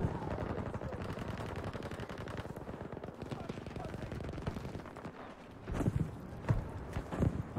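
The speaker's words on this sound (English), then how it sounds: "Now that I know how strong this thing is, damn. Look at that. Three shots." Gewehr 1-5 rifle fire in Battlefield 5, with a few sharp shots close together near the end, cutting through a dense wash of constant battlefield gunfire and noise.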